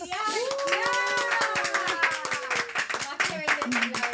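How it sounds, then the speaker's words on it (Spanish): Audience clapping for Bianca on a Spanish-language talk show, steady rapid claps throughout, with voices talking over them. "Que ese aplauso es para ustedes"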